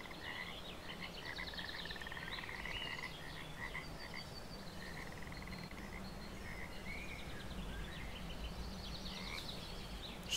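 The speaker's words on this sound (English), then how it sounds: "now we'll enjoy the sound of the frogs" Frogs croak in steady overlapping pulses across a game's ambient soundscape in Russian Fishing 4, with chirpy trills repeating throughout at moderate distance over a constant low background hum.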